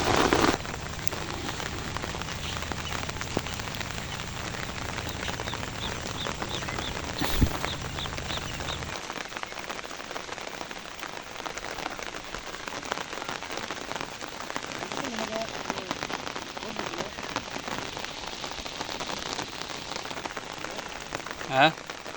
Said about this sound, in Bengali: তো দেখতে পাচ্ছেন যে প্রচুর বৃষ্টি, হে আপনার ভিজে গেলাম।